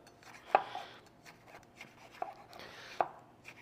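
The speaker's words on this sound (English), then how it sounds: "Slice in our jalapenos." Knife slicing jalapenos on a cutting board in a home kitchen, three distinct chopping taps spread across a quiet background with faint rustling between them.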